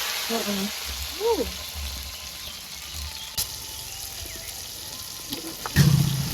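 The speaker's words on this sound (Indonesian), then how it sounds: "Bahannya sambal digoreng" Sambal ingredients frying in a pan give a steady, moderate sizzle throughout, with a few clinks and brief animal-like background calls over the hiss.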